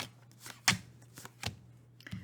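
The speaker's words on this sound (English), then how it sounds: "I'm just going to shuffle and then deal out" Tarot cards being shuffled and dealt for a card reading, heard as a few soft, separate riffling and slapping bursts with quiet pauses between them, close and fairly faint.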